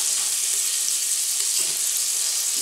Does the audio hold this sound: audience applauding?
no